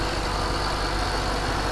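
A 2011 Ford Mustang Shelby GT500 idles steadily, a smooth, even engine rumble held at a constant level throughout, with no voices over it.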